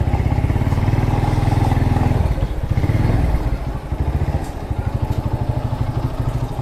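A vintage two-stroke Yamaha motorcycle engine, an RX 125 Twin or AS3 Twin 125, idles nearby in a garage with a steady, rapid, uneven put-put. It is loud and continuous and dips slightly midway.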